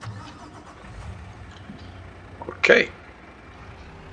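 A truck engine in the video game Farming Simulator 22 fires up with a single sharp, loud burst near the end, after a stretch of quiet ambience and a brief spoken word.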